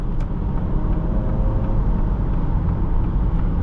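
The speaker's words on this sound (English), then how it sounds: "Lots of traffic out here today." Steady road traffic noise heard from inside a moving 2025 Acura ADX late in the evening, a continuous low rumble and tire roar running evenly throughout with no talk.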